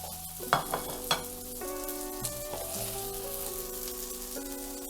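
Ginger and chilies frying in a pan for Peruvian lomo saltado, a soft steady sizzle opening with a few sharp clattering stirs, then settling under a low hum and faint tones, no voices.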